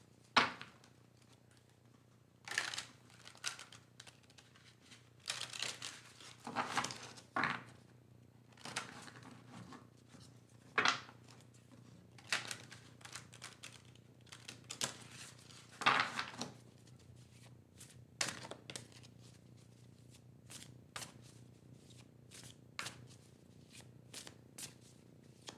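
A Wildwood Tarot deck is shuffled by hand in quiet, close bursts of riffling and card slaps with short pauses between them.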